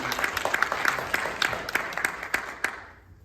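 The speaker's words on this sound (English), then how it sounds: "let's give another round of applause for Ang." A film festival Q&A audience gives a moderate round of applause with distinct individual claps standing out, tapering off toward the end.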